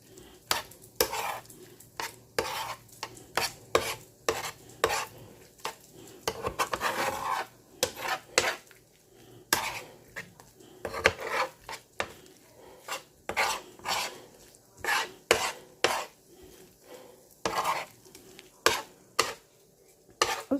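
A spoon scrapes and scoops through redfish with scrambled eggs in a pan. The bursts of scraping and rubbing come in irregular strokes, close by, with brief pauses between and no talking.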